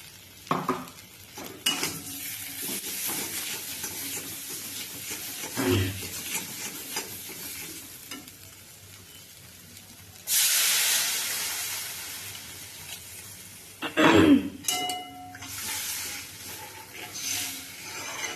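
Water is poured slowly into a pan of frying fish curry made with katla and bata fish, with sizzling hiss bursts, stirring and scraping of utensils against the pot, close and moderate in level.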